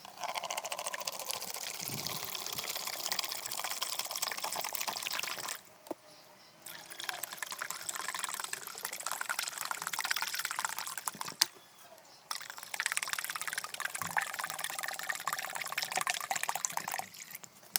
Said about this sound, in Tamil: இப்போ இந்த மூணு லிட்டர் ஆற்று தண்ணியையும் இந்த பிளாஸ்டிக் வாளியில் ஊற்றிடலாம்